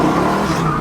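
A Firebird car accelerating hard gives a loud, steady engine roar at close range in one brief full-throttle burst.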